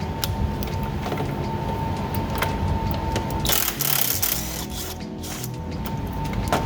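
A ratchet on a 3/8 extension loosening a nut on a 2009 6.4 diesel during fan clutch work, giving quick metallic clicking bursts at close range over a steady mechanical hum.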